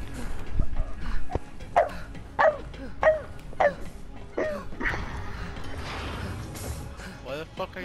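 A person mimics a dog with a run of short, sharp barks in a steady rhythm, followed by rougher growly noises and mumbling.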